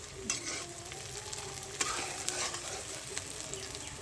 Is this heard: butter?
yes